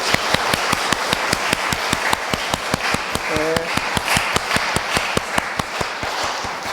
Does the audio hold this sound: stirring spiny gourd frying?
no